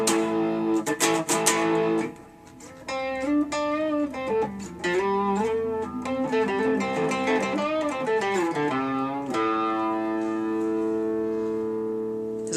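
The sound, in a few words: electric guitar on rhythm pickup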